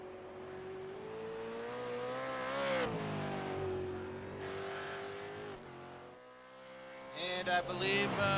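A V8 Supercars race car on a hot lap at Road Atlanta holds a steady engine drone, then falls away and picks up again. Shifting tones and a sharp, brief squeal come near the end, heard from a moderate distance.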